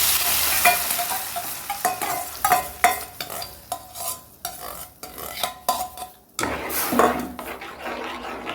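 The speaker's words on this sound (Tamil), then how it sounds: "கொஞ்சம் ஹையில் வச்சு நல்லா கைவிடாமல் கிளறிட்டே இருக்கணும்." Ground beetroot paste stirred in ghee over a high flame for halwa, with a spoon scraping the pan in an uneven rhythm over a soft sizzle, close and clear with no talking.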